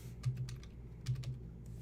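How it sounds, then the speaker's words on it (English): Two short bursts of typing on a computer keyboard, a few quick close clicks each, set against a low background hum. "I'm going to quit digging. I'm going to start typing."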